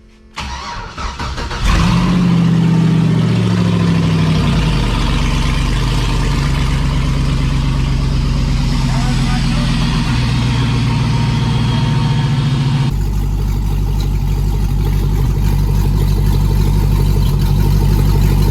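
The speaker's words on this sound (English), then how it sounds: "Power, fuel up. Ignition start." A V8 engine swapped into a Jeep Comanche cranks and catches, then settles into a loud, steady, rumbling idle close by that carries on for many seconds with a shift in tone partway through.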